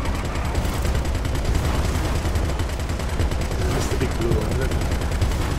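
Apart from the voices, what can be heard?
vehicle-mounted guns firing in video game GTA 5 Online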